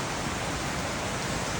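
Heavy rain pours down in Jordan Valley, a steady, loud, unbroken hiss of falling water heard close with no other sounds.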